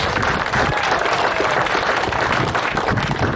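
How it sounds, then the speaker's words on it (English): An audience at a school championship dedication event applauds, dense continuous clapping from many hands filling the room without pause. "Let's give him a big round of applause."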